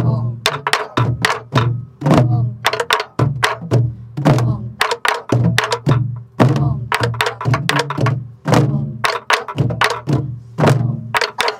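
A Korean buk barrel drum is struck in a traditional pansori rhythm, with deep booming strikes mixed with sharp rim and shell taps in a steady repeating pattern, close and loud, with voices calling the rhythm.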